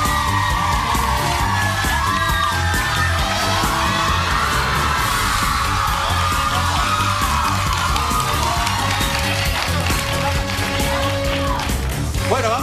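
Studio audience on a Spanish television talk show cheering, whooping and applauding loudly and continuously, with yells and voices mixed into the crowd noise throughout.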